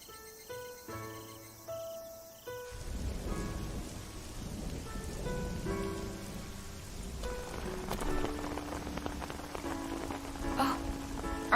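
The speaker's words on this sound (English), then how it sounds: "It wasn't raining like this earlier" Heavy rain pours in a steady, dense wash after a short musical opening, with faint tonal music and a possible rumble of thunder mixed beneath it and no voices.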